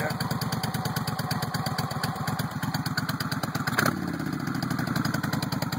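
A 1996 Suzuki VS1400 motorcycle idles steadily up close, its low engine pulse drumming evenly with clattery mechanical ticking, one brief louder blip near the end.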